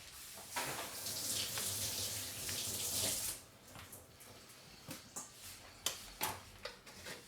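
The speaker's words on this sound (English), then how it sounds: "I will rinse it a little bit anyway" Tap water runs steadily over a fish being rinsed in a kitchen sink for steamed fish, a continuous broadband splash for about three seconds, then stopping, followed by scattered clinks and drips.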